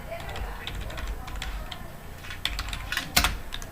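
Computer keyboard typing while entering a spreadsheet formula, a steady run of light key clicks with a few sharper taps near the end, close and moderately loud, with faint talk in the background.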